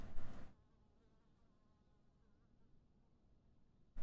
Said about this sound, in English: Oh, there's flies buzzing.